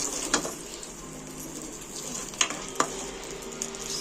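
Salt and turmeric being stirred into a sizzling pan of oil while making spicy garlic chili paste rice, with a steady faint sizzle and a few sharp scrapes of the spoon against the pan.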